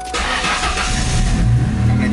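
A car engine starts on its own without a jump start, cranking briefly and then catching into a steady running idle that grows a little louder, heard close by.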